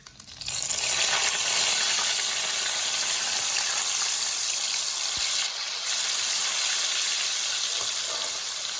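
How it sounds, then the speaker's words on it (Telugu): Ginger fries in hot oil in a bowl for a fish pickle, a loud continuous hiss of sizzling that holds steady throughout, with no talking. "కొద్దిగా ఫ్రై అయితే పచ్చి వాసన పోతుంది అల్లం."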